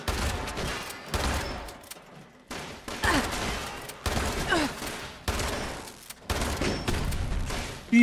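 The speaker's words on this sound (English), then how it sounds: "Jeez, this shotgun is nice." Shotgun fire in the video game Fallout 76, a series of loud booming blasts in uneven bursts separated by short silences, with no talk.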